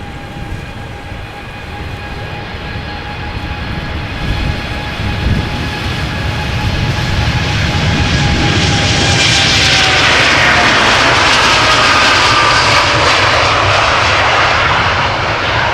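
Jet engines of a nine-year-old TUI airliner departing Amsterdam Schiphol swell from a whining hum to a loud, roaring takeoff blast that grows steadily and stays up close through the end.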